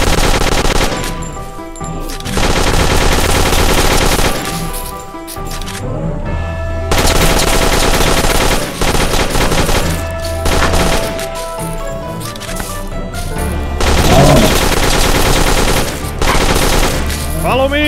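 Dense, loud bursts of rapid gunfire from farm defenders shooting over the walls in the Dead Acres farm-defense game, sustained volleys with short gaps, over a steady game soundtrack.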